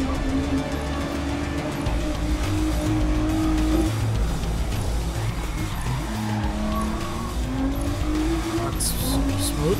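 Racing car engine in GRID Legends during GT drifting, a loud continuous droning roar with rising and falling revs and long tire squeals, heard up close alongside talk.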